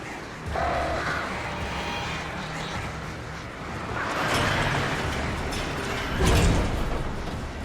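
Swarm of attacking birds in the video game Alan Wake, a dense rushing flutter and screech that swells in waves over mechanical game ambience, with no clear talk.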